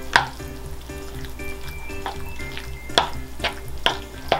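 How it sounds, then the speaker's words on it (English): Mayonnaise and blended vegetables are stirred together in a bowl for a Danish remoulade, giving soft wet churning with a few sharper scrapes and taps of the utensil against the bowl. "Give that a stir"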